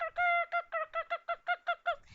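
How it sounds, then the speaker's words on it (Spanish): A hen voiced in a rhythmic run of about nine short, loud, nasal calls in quick succession, close and clear with no talking, as in a children's song about animals at home. "En casa escucho una gallina."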